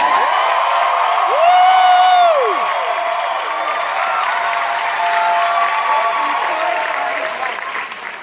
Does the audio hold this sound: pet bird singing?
no